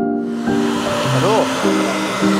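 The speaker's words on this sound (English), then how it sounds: "I'm drying the cells because we just cleaned them and we don't want them to stay wet overnight" A blower drying solar car cells after cleaning at the Bridgestone World Solar Challenge: a steady, loud motor whine with tones that shift and swoop in pitch, running throughout.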